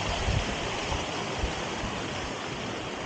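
Water pouring down through terraced rice paddies beside a hillside temple in wind and rain, a steady broadband rushing roar with no breaks, close and loud throughout.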